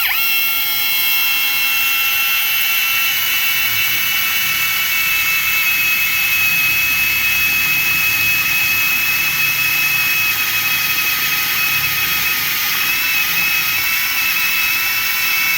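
A spot weld drill boring out a spot weld on sheet metal, a loud continuous high-pitched whine with a steady grinding hiss, close and unbroken throughout.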